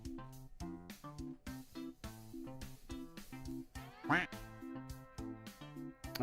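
Rhythmic cartoonish duck quacks from a video game repeat in a steady pattern over a beat, loud and close, with one sharper rising call partway through.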